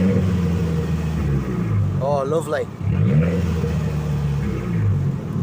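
Valved exhaust of a 2023 Abarth 695 Monza manual revving in sport mode, a steady low engine drone that swells and dips briefly around the middle, with someone speaking over it.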